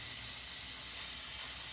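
Zucchini noodles sizzle in a warm pan, a steady close hiss filling the whole short stretch without pause.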